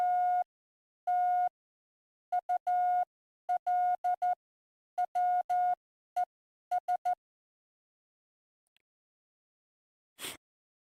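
Morse code from a keyer sends clean, steady tone beeps in groups of short dits and longer dahs with gaps between, fairly faint and alone, followed by a brief click.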